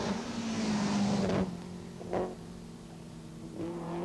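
A bulky Mercedes rally car at the 1987 Rally Garrigues drives past with a steady engine drone that drops away, followed by fainter engine swells from further off, with no voices.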